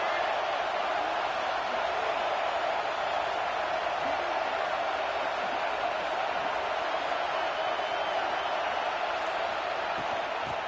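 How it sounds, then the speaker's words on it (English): A raucous crowd at a college football stadium for a South Carolina vs Texas A&M game roars in a steady, dense wash of noise that holds loud and unbroken throughout. "quiet this crazy, raucous crowd"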